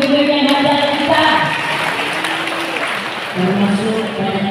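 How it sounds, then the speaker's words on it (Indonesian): An audience at an Umrah pilgrimage training session applauds the guides, a steady crowd clapping mixed with voices and background sound. "Tepuk tangan untuk pembimbing yang hadir kita"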